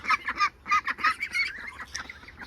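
Young ducks quack and honk in quick, rapid bursts close by beside a marsh, several birds calling over one another.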